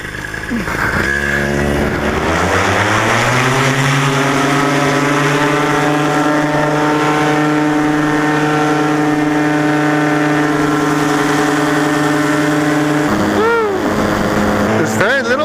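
A fuel-powered drone's small engine spins up in a backyard, its buzzing pitch climbing over the first seconds, then holding a loud, steady drone with strong harmonics before shifting again near the end.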